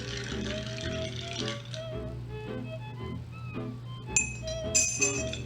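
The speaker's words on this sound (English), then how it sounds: "once I add the ice, I'm going to stir the drink about 10 times." A spoon stirs ice in an Old Fashioned cocktail glass, producing soft clinking and tinkling of cubes against glass over a low steady background hum, with brighter clinks toward the end.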